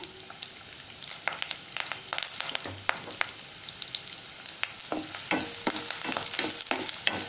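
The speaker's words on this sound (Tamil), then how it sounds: "இந்த ஒரு பெரிய வெங்காயத்தை இதில் போட்டு வணக்கிடலாம்" Chopped large onion sautéing in hot oil for a potato shallot roast, with a steady sizzle and repeated sharp scraping clicks of a spoon stirring the pan, close and fairly quiet.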